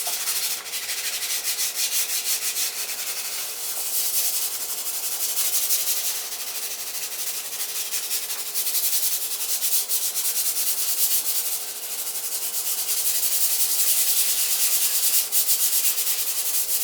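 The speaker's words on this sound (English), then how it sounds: "now we're just gonna finish it off with the sandpaper" Sandpaper is rubbed over a patched wall hole where a light switch was removed, a close, steady scratchy hiss of back-and-forth strokes that runs continuously with brief slight dips and no voices.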